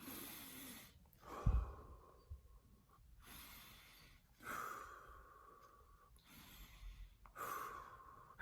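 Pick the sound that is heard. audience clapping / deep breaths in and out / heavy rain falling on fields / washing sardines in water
deep breaths in and out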